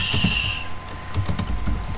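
Computer keyboard typing while working on a LaTeX document, a steady run of quick, close clicky keystrokes with uneven rhythm and no speech.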